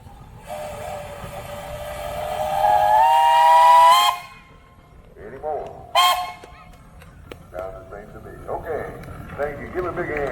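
A steam engine whistle blows a long, rising blast, then a short second toot, at a steam engine and threshers festival, with people chatting nearby and background murmur afterward.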